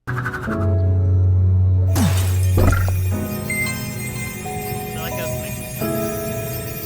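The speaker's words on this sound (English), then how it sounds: "gammas and alphas have their own distinct gleaming sound when it enters battle" A bright synthetic shimmering chime with a glassy shatter-like burst, an alpha Pokemon's battle-entry gleam, rings out over electronic game music and effects.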